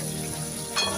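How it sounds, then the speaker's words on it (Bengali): Tomato, onion and ginger fry in hot mustard oil in a home kitchen, giving a close, continuous sizzle with a brief louder crackle near the end. "টমেটো দিয়ে ভালো করে ভাজবো"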